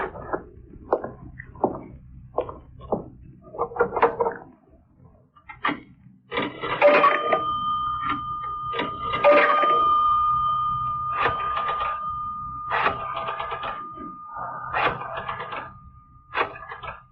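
An old-time radio drama telephone bell rings with a sustained electronic tone amid clattering and knocking noises; the ringing persists for several seconds, moderately loud.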